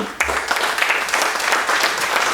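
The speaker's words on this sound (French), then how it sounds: "Allez, on l'applaudit bien fort." Audience applause for a musician at a folk concert of southern French dialect songs, a quick burst of many hands clapping that rises suddenly and stays dense and even.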